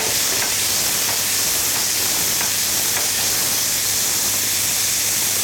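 Beef fillet seared at full heat in a hot pan, turned over, giving a loud continuous hiss-like sizzle with faint pops throughout.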